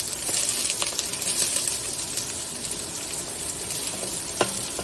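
Chopped onions sautéing in olive oil for an Indian-style chicken curry, a steady close sizzle and crackle with light clicks of stirring, no talking.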